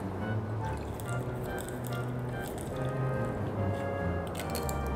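Someone takes a last sip of water close to the mic, a wet, squishy gulp and swallow over a steady low background hum from Dragon Quest Builders 2 gameplay.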